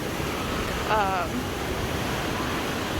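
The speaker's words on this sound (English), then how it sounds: "These waves go off a ton." Waves in an indoor waterpark wave pool, a continuous loud rushing wash of water echoing through a big hall, with a brief voice cutting through partway.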